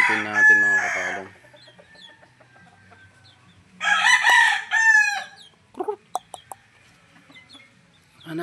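Gamefowl chickens in a breeding pen, with a loud rooster crow at the start and another mid-clip, followed by a few short clucks in a quiet yard.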